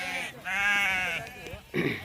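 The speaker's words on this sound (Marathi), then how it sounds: "किती आहेत मेंढ्या पाहू शकता तुम्ही" Sheep bleat in a wavering, drawn-out call, followed by another bleat near the end; close and fairly loud.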